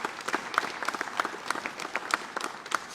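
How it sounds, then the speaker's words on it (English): An audience claps for the police chief and fire chief at a public event in Danville, Virginia, with dense, steady applause running throughout and no voices over it. "Can you give them a big hand?"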